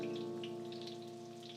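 Coconut shrimp frying in hot oil, with a faint, scattered crackle and sizzle under a steady, humming drone.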